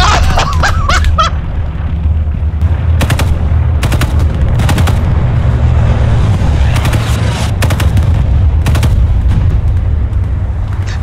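Sustained loud video-game gunfire with a grenade blast, rapid bursts and sharp cracks packed densely over a constant roar of battle, with no pauses.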